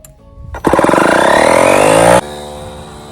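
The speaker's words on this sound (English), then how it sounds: "I bought this DeWalt air compressor" A DeWalt air compressor inflating an RV tire starts abruptly with a loud, steady mechanical rattling drone for about a second and a half, then cuts off, leaving a quieter hum.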